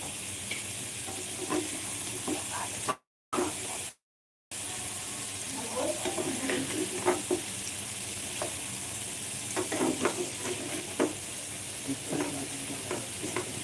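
Spice masala for matar paneer fries and is stirred in a pan, making a steady sizzle with repeated scraping and clinking strokes and a brief gap of silence early on.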